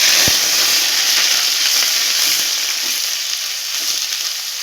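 Onion paste frying in hot oil with bay leaf, dried chilli and whole cumin, a loud continuous close sizzle that slowly softens, with one sharp stir knock near the start and no talk.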